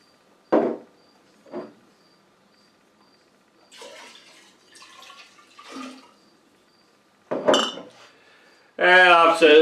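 Glass mixing jars knock and clink in short, separate taps while fresh corn liquor is blended, with faint splashing and pouring of liquid between. A louder burst of sloshing comes near the end.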